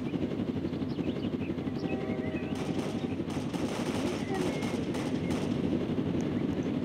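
Video game gunfire, a run of sharp shots clustered midway over a constant dense background rumble and noise, with voices talking.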